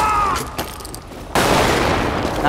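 A bomb explodes in the video game Lara Croft and the Guardian of Light, a sudden loud burst of broadband noise that stays dense and roaring after faint clicks and game sounds.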